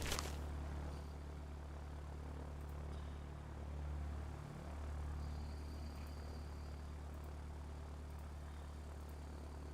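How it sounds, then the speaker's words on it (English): A B-17 bomber drones steadily overhead in the Ground of Aces video game, a continuous low propeller and engine hum with a brief pitch dip partway through, unbroken by talk. "A B-17 on its way to a dangerous supply drop"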